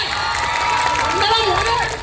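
An audience claps and cheers at a music night comedy skit, a dense, continuous wash of applause with shouts rising above it for a couple of seconds.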